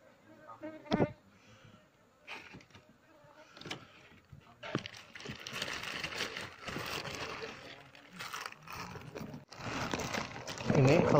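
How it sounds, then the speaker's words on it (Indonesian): An Asian honey bee (Apis cerana) colony buzzes as it is smoked during a transfer attempt, a dense droning hum that grows louder and steadier in the second half, with someone talking over it. "Ini koloni lebahnya."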